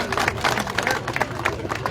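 Audience at a public ceremony unveiling a memorial square clapping in welcome, brisk applause mixed with crowd murmur and nearby voices.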